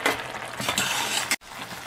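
A steady, dense hiss of green lima bean fry bubbling as it cooks in a pan, close and continuous, with a brief dropout near the end.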